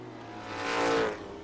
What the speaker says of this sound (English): I wasn't expecting a 914 to outrun the BMW on the long straight.